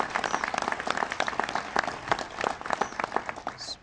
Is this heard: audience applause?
yes